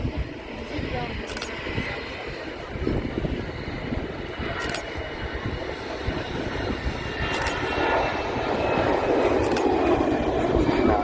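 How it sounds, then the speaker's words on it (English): EasyJet Airbus A319-100 jet departing the runway at Manchester Airport, a steady broad engine roar that swells slightly toward the end, with someone talking over it. "Just departed with an Airbus A319-100, EasyJet."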